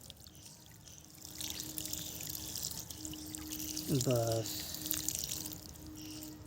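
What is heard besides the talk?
pouring water onto potted adenium plants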